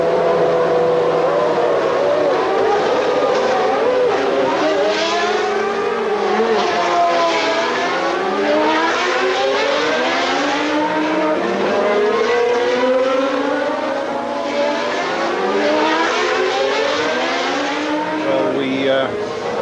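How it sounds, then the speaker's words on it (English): Formula One cars of the 1993 McLaren era pulling away on a warm-up lap from the grid, a chorus of high-revving engines rising and sweeping in pitch, loud and layered, while a stalled car coughs briefly; narration runs over the engine noise. "As all the other cars move off on the warm-up lap, Michael's car coughs briefly into life and then stops."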